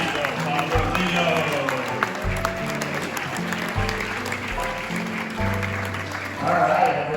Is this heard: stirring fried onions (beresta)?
no